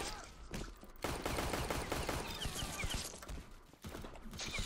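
Rapid gunfire in the Roblox shooter Arsenal, dense bursts of clattering shots fired in quick succession with a brief pause between volleys, loud and close with no talk.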